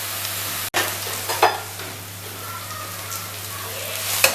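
Onion and spice masala for achari masala bhindi fries in a pan with a low, steady sizzle, a few stirring clinks and a faint constant hum in the background.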